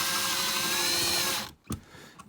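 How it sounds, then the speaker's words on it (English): A power drill drives screws into a light switch, whirring steadily for over a second before stopping, followed by a brief clunk and quiet handling. "And then I grab my drill, and you have two screws, one at the bottom and one at the top."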